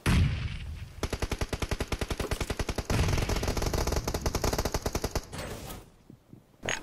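Automatic gunfire in the battle royale game PUBG Mobile: loud, rapid bursts of evenly spaced shots rattling for several seconds, pausing briefly and resuming, then fading to quieter distant noise.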